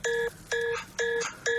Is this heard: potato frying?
no